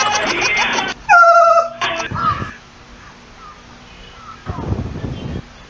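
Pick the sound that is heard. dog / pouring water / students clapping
dog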